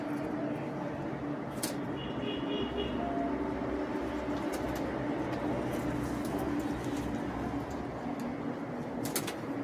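Madrasi pigeons in a loft coo softly in low, throaty murmurs over a steady ambient hum, with a few faint chirps and clicks nearby.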